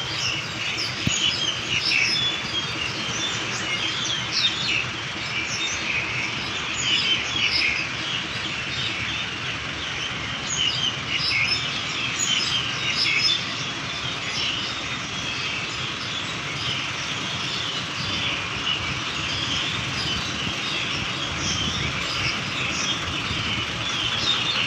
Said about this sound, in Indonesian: Di sini banyak sekali ya kicauan-kicauan burungnya.